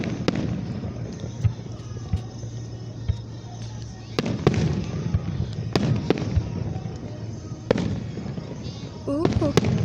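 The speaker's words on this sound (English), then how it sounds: "They decided to light the fireworks on the field," Fourth of July fireworks bursting over a football field: sharp booms crack out at irregular intervals, some close and loud, others softer, over a steady crowd murmur with scattered voices.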